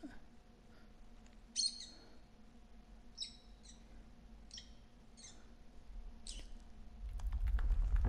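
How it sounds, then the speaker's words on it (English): A songbird in the video game Virginia chirps in a string of short, bright, high calls over a quiet ambient bed, and a low rumble swells near the end. "What bird is that? Is that a robin?"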